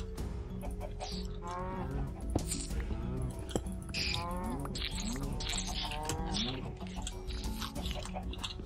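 Cows moo repeatedly in the Minecraft video game, drawn-out bovine calls mixed with clucking chickens and small game effects, while a player talks over them.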